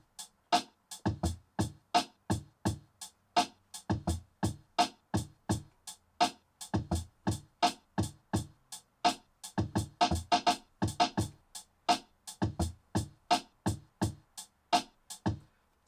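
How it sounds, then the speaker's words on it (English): Programmed drum beat with punchy kicks, sharp snares and extra snare hits, repeating in a steady loop of evenly spaced, loud hits with no talking over it. "So that's how the drum sounds all together."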